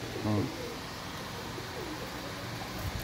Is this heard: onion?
no